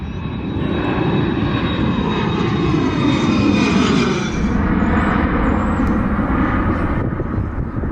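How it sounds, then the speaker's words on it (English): An airplane taking off at an airport, heard from outside as a loud, sustained jet engine roar that builds and slowly fades as it climbs away, with no talk over it. "One's just taken off."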